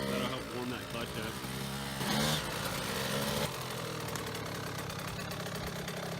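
A KTM 65 SX dirt bike engine runs at varying revs during slow figure eights, a buzzy two-stroke drone rising and falling, with voices speaking over it.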